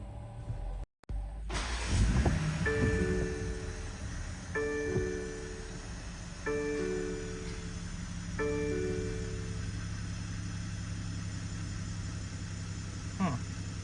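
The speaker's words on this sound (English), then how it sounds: "I'm gonna turning it off and then gonna restart the engine again." A BMW X5 G05 with the B58 engine, fuel tank breather valve just replaced, is shut off, then cranks and restarts before settling into a steady idle with repeating chime tones overhead; the engine hum is moderate and close.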